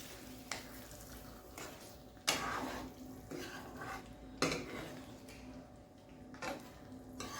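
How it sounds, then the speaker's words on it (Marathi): A spoon stirs chicken sukka with black masala in a metal pan after salt goes in, giving irregular sharp clinks and scrapes against the pan over a quiet background. "आपण मीठ टाकल्यानंतर परत एकदा हलवून घेणार आहोत"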